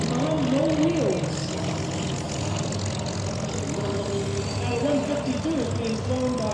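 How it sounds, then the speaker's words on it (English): A propeller-driven airplane, number 152, flies at the Westmoreland County Airshow, its steady engine drone loud and continuous throughout with faint background noise of the crowd. "152 is being flown by Miles Stahl"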